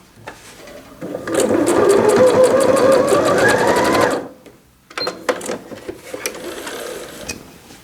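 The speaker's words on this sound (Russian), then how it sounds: "И вот здесь прокладываем прямую строчку вдоль этого сгиба." Sewing machine running a straight seam along a folded edge of fabric for a fitted sheet, a loud steady whirring burst of about three seconds, then a pause and a few short clicks and bursts as the machine restarts.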